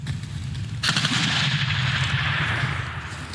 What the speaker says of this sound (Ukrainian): Воїни розгортають протитанкову гармату і ведуть вогонь уже з неї.